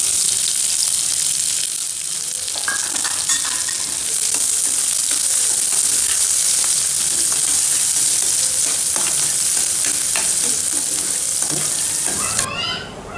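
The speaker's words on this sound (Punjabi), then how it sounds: "ਮੈਂ ਇੱਧਰ ਜੀਰਾ ਆਪਣਾ ਤਿੜਕ ਰਿਹਾ ਹੈ ਤਿੜਕ ਰਿਹਾ ਹੈ" Cumin seeds crackle and sizzle steadily in hot oil, a dense, close frying hiss with scattered pops, ending with a brief clatter.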